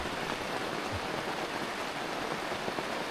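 Steady rain falls on a mountaintop campsite during a storm, a dense even hiss of drops on surfaces holding at a constant level throughout with no voices.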